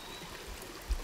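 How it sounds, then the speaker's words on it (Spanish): Small mountain stream, the arroyo Pasos Malos in the Comechingones corridor, flowing with a faint, steady watery trickle and a soft low rumble. "miren, este es el arroyito"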